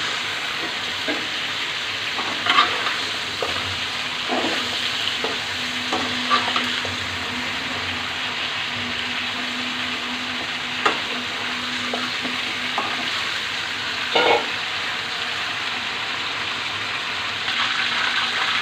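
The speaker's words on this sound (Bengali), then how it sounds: "চিকেনটাকে আমি ভালো করে ভেজে নিব, যেন একটু গোল্ডেন কালার আসলে তো নামিয়ে ফেলবো।" Chicken pieces frying in oil in a pan for a Bangladeshi home-style chicken roast, a steady close sizzle with occasional stirring scrapes and clatters, no talking.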